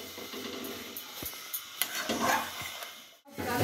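Rice flour being stirred in a pot while cooking pitha, a steady scraping and stirring with soft sizzling, close and continuous, with a brief quiet gap near the end.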